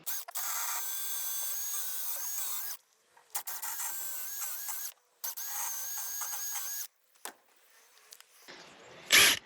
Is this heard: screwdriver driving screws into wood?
yes